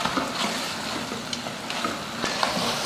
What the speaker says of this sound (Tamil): இப்போ இந்த மசால் போட்டு நல்லா ஒரு 2 நிமிஷத்துக்கு வதக்கலாம்.